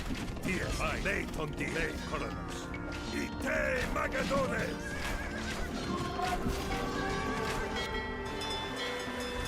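Horses whinny and neigh repeatedly over clip-clopping hooves and mechanical clatter in Age of Empires 2, a busy, continuous mix at close range.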